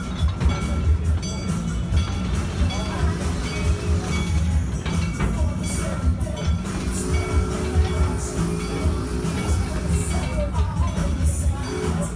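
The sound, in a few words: train ride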